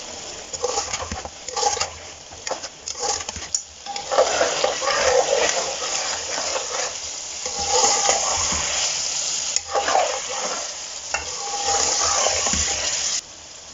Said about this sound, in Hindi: इस तरीके से इसको चलाएंगे ताकि बोटियां टूटे नहीं।